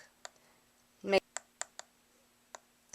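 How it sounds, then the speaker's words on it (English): Sharp mouse clicks on on-screen arrows in design software, a handful of close, quiet taps spaced irregularly, one louder burst among them, with a faint steady hum underneath. "I was clicking on the arrows at the bottom to have it turn around"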